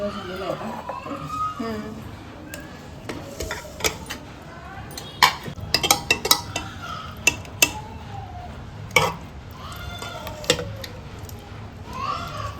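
A pressure cooker is handled and opened in a home kitchen while dal is cooked, with sharp metallic clanks and lid clatter scattered over the whole stretch under continuous talk.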